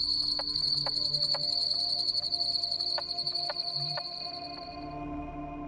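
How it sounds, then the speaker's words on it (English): A carpenter frog calls in a wetland, its sharp knocking notes like a hammer striking wood, repeated in irregular series of loud, hollow raps over a steady high insect trill. "The carpenter frog is very distinctive because it has a call that just sounds like somebody"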